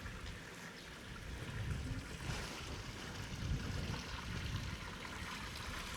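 A heavy spout of water pours steadily from a village fountain beside a church, a full broad rushing splash that holds constant, fairly close, with no one talking.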